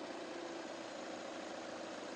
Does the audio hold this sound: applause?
no